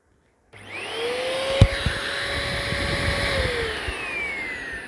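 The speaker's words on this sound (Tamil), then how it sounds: "உறிஞ்சி இந்த பக்கம் விடுறது தான் வேக்யூம் கிளீனர்." A Eureka Forbes Compact 700 watt vacuum cleaner switches on abruptly and whirs at close range, its motor whine shifting pitch midway and then holding a steady drone, with no speech.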